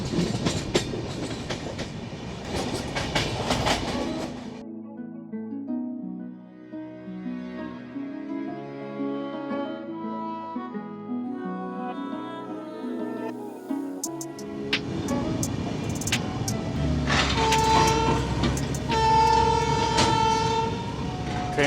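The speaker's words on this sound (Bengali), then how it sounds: "গরপোস থেকে ছাড়লো ট্রেন।" A passenger train leaving a small halt station in Odisha and picking up speed, a loud horn blast over rumbling wheels, then a steady run with rhythmic clickety-clack and a further horn near the end.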